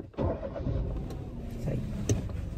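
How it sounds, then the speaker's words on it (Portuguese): A car engine cranks and starts with a sudden burst near the beginning, then settles into a steady, close idle during a driving lesson for newly licensed drivers. "Vamos ligar o veículo e vamos sair aí em direção àquela ladeira."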